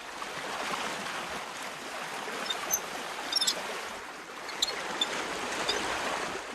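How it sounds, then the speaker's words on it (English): Water rushes and gurgles through the channels of a salt garden after the main basin's gate is opened, a steady broadband wash with occasional small splashes and clicks. "Desyerto Forte opens the water gate of the main basin that feeds the entire salt garden"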